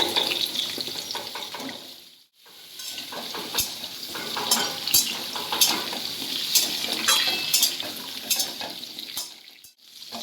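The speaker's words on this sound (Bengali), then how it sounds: "এরপর আমি মিষ্টি আলু বা রাঙা আলুটাকে দিয়ে দিলাম এটাকে ভেজে নেবো" Sweet potato pieces frying in oil in a pan for a mixed vegetable curry, a loud, close, continuous sizzle with crackling spurts and a short dip when the food is stirred, and no voices.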